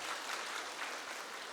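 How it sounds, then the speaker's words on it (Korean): A church congregation applauds during a sermon, a steady dense wash of clapping that holds evenly for a brief moment without voices. "예, 진짜 박수 치셔도 될 것 같아요."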